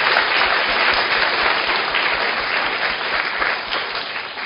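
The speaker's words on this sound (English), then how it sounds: "I think she deserves a round of applause from us." Dense, steady applause from a conference audience at a patient conference in Singapore, a broad wash of many hands clapping together at full volume for the whole stretch, with no voices over it.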